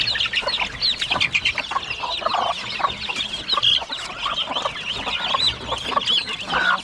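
Ducks on a farm keep up a steady stream of overlapping clucking, chattering calls from several birds, close and fairly loud, with no voices over them.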